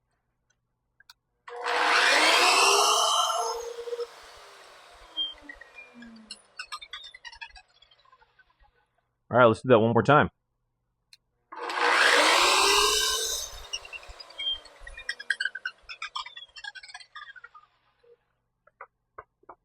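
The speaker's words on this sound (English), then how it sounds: "You can kind of hear the blade spinning up and that little bit of the wobble in there that the blades naturally have" A budget track saw spins up and cuts twice, each a loud broadband whine of blade through wood, sounding rough at the start, separated by a short sharp mechanical burst and quieter clicks, with a brief spoken line near the end.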